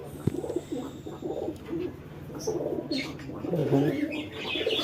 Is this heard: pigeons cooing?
yes